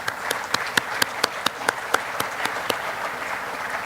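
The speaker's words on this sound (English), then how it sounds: "May I have a round of applause for the sponsors," Audience applause at a lecture event for the sponsors: a moderate crowd claps steadily for a few seconds, with several crisp individual claps standing out above the even wash of clapping.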